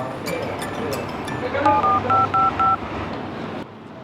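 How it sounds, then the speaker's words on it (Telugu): A short run of telephone keypad tones beeps out a number, about five quick evenly spaced presses, over faint background noise. "సరే, ఒకసారి ఉదయకైతే ఫోన్ చేద్దాం."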